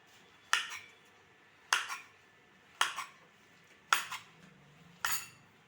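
Peeled sweet potato chopped into pieces for bowls, giving five sharp knife chops on a board, evenly spaced about a second apart, close and crisp with no talk.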